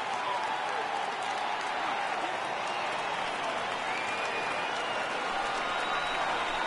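A capacity baseball crowd of over 39,000 at an Angels versus Dodgers game roars steadily and loudly with scattered clapping, a dense, unbroken wash of cheering for the whole stretch.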